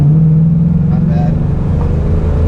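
Ford Mustang Bullitt GT engine revving high under loud cabin noise, a strong low drone with a rising tone during manual driving, with people talking over it.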